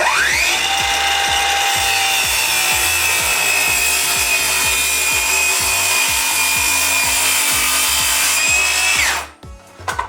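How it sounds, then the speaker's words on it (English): A circular saw rips a long, steady cut through a sheet of plywood, its loud whine holding constant for about nine seconds before the blade cuts out and spins down. "I'll let my saw blade just cut maybe slightly into this wood, and both sides will be held."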